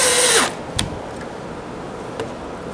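A power drill drives joist hanger screws into wet deck wood: a brief loud whirring burst that winds down, followed by a couple of short clicks and a quieter background hum.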